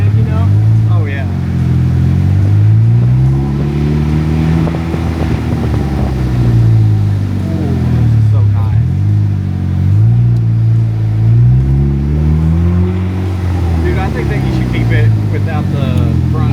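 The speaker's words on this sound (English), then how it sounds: "the supercharger intake noise right behind your head" A supercharged DF Goblin car engine revs up and down in repeated swells, with the supercharger intake whine close by. People talk over the engine.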